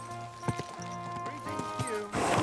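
Horse in Kingdom Come: Deliverance 2, a few soft hoof thuds and faint movement sounds beneath music, with a voice speaking over it and a swell of background noise at the end.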